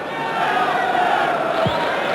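Football crowd roaring Newcastle on late in a 1995 Premier League match against Liverpool, a dense, steady wall of massed voices and chanting that holds loud throughout.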